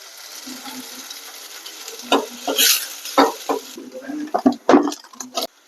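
Onions and green chillies sauté in a pan with a steady close sizzle and several loud scraping stirs of a spoon toward the end.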